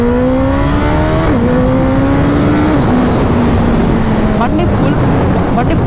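A superbike accelerating hard after a gear drop, loud close engine note climbing in pitch with gear shifts under heavy wind roar, a rider's voice faintly mixed in.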